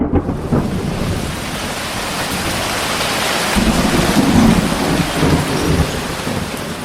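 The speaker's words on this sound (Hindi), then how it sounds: "आसमान भी चमक रहा था और तेज तेज बारिश हो रही थी।" Heavy rain pours steadily in a thunderstorm with low thunder rolling through the middle, a constant loud wash of rainfall close around.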